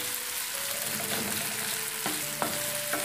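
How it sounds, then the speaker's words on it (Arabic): Onion sizzles steadily in a frying pan while being stirred, with a constant close crackle and a few soft scraping knocks from the stirring, no talk. "ضروري تحرك، يعني ضروري تحركي البصله، ما تخليهاش تحرق لك شي جهه"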